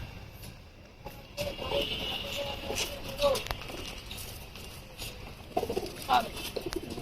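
Pigeons cooing softly at intervals in a pigeon loft, with a person talking over them and occasional rustles nearby.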